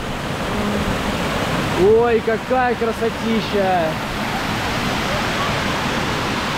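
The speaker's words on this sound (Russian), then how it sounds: "Вот почему его называют водопад Шнурок" Shnurok waterfall near Gelendzhik, with a clear pool below: steady broadband roar of falling water fills the whole clip, while a voice exclaims briefly over it in the middle.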